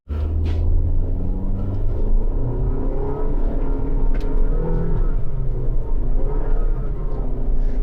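A Honda Elevate with a CVT launching in S mode, its engine rumble rising steadily into a droning acceleration heard from inside the cabin, continuous and fairly loud.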